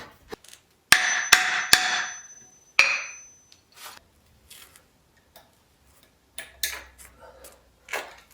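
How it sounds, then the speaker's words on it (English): Sharp metallic hammer strikes drive a C-clip onto a vehicle axle shaft during U-joint work: a few loud ringing blows early on, then lighter scattered taps, close by and without talk. "Yeah, I'm gonna switch to the hammer."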